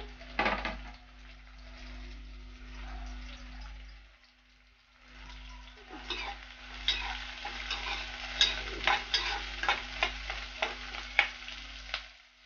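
Green chilli pieces, mint, bay leaf and curry leaves frying in oil for a boti curry, a crackling sizzle that quiets briefly, then returns with rapid spatula scrapes and clinks against the pot.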